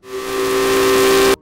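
The steam whistle of the paddle steamer Simplon sounds one loud, sustained blast for over a second with a hissing edge, then cuts off abruptly.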